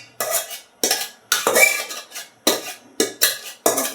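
Metal pot and utensils clatter while bottle gourd leaves are boiled for cooking, giving a steady series of about eight sharp scraping and knocking bursts, close and fairly loud, with no talk.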